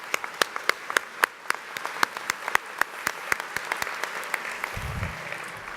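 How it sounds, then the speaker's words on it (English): Applause from graduates at a spring college commencement ceremony: a thin, scattered run of distinct hand claps, fairly sparse and moderately distant in a large hall, easing off toward the end with a low thump near the close. "I think you should all give yourselves a round of applause"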